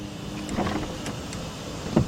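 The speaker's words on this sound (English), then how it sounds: "Alright, let's check the other windows and see if they're working." Power window motor in a 2011-2014 Mazda 2 passenger door, a soft steady whir close by with a light thunk near the end.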